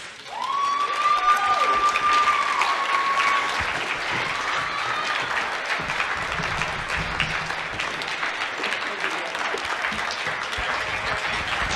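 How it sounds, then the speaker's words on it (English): A large crowd at a law enforcement memorial ball and auction applauds loudly and steadily, dense clapping that fills the space, with a brief whistle at the start and the ovation continuing throughout. "Come on, give Gail another huge warm round of applause, everybody."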